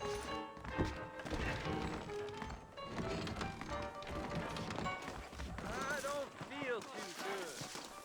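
Horse hooves clip-clopping from saddled horses in the Western video game Red Dead Redemption, rhythmic thuds under music and character voices, with a brief whinny-like rise near the end.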